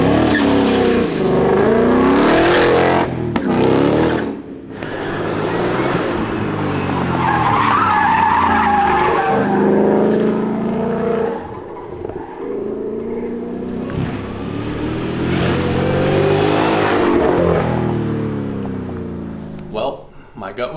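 Ford Mustang EcoBoost, a four-cylinder car, lapping a race track with loud engine roar, revving through gears and tire skidding on corners, with some talk mixed in throughout.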